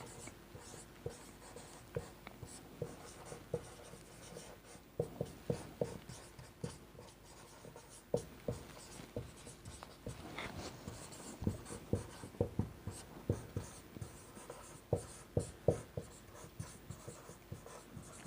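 Pen scratching on paper while solving a maths problem, a steady series of short, close strokes with soft talk faintly underneath.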